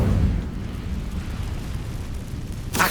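A fiery Incendio spell from Hogwarts Legacy erupts as a deep, roaring blast that rumbles steadily, then a sharp burst flares at the end.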